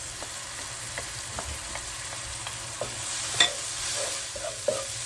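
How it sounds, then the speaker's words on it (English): Sautéed onions with curry paste sizzling in hot avocado oil for a shrimp curry, a steady moderate frying hiss with light stirring knocks and a few louder clatters, no voices. "So my onions are nice and sauteed down, and I'm gonna add in my curry paste"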